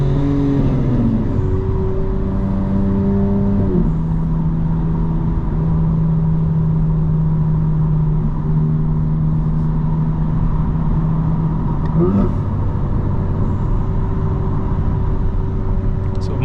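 A 2025 BMW M4 Competition xDrive engine pulls hard through several upshifts, its loud, steady drone stepping down in pitch with each gear change, then climbing again near the end.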